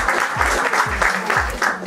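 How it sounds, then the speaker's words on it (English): An audience at a fashion show claps in a continuous, close round of applause, with deep booming thumps recurring in a steady rhythm beneath it. "please do give her a round of applause"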